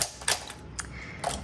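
Keys strike on a 1946 Smith Corona Speedline typewriter, three or four sharp, close mechanical clacks spaced irregularly with faint creaks between.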